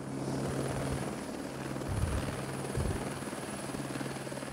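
Helicopter rotor and engine noise at a touchdown, a steady close throbbing drone that swells twice briefly, with no talking.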